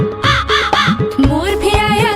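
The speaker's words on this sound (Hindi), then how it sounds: "कौवा भी आया" A crow caws loudly and close, giving several harsh, rhythmic calls in quick succession with no talk.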